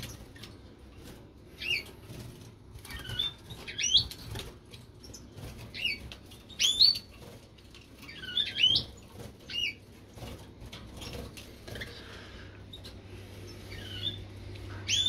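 Goldfinches in a breeding cage flutter their wings in short bursts, close by, with high thin chirps scattered between the flaps and a low steady background hum.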